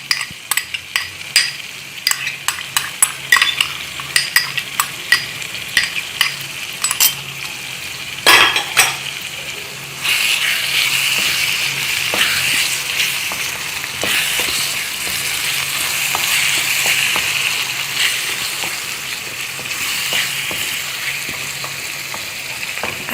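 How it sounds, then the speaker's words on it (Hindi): Whipped yogurt goes into a sizzling biryani masala for a Gujarati biryani: at first a string of sharp spoon-and-pot clinks over a steady fry, then a loud, continuous sizzle with occasional scrapes and no talk. "अब इसमें ऐड करें आप ये 2 से 3 खाने का चम्मच दही फेंटी हुई"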